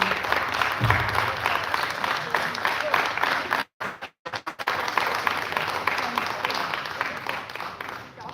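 Steady audience applause at the final day of a residential astronomy space camp fills the room, dense and continuous with a brief cut-out midway before the clapping resumes.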